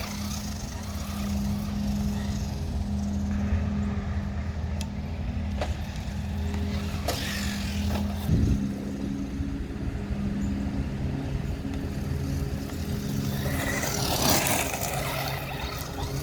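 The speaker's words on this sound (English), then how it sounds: "Ton of gravel right here that this car just slides all over the place on." Traxxas Slash RC car with Pro-Line Gladiator tires driving and sliding on gravel, a continuous electric motor whine with crunching and rattling at a steady level throughout, no voices.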